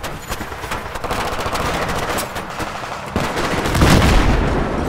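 Sustained gunfire during a Battlefield 3 ambush, with rapid bursts of automatic fire and sharp shots rattling continuously, growing louder and heavier toward the end.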